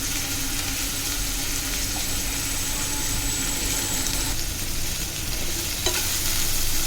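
Masala for stuffed brinjal sautéed in a pan with the leftover spice mix, a steady close sizzle with stirring scrapes throughout, alone without talk.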